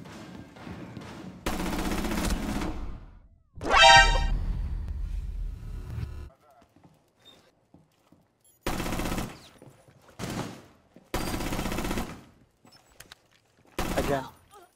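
Bursts of rapid gunfire in Rainbow Six Siege ring out in loud, separate volleys of about a second or two each, split by near-silent gaps, with a player's voice between some bursts.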